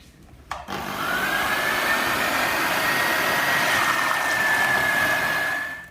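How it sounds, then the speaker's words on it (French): A kitchen whisk mixing melted Marseille soap into homemade laundry detergent, a brief knock and then a steady, loud whirring hiss with a gliding whistle-like tone running throughout. "je vais prendre le fouet de cuisine pour accélérer le mélange"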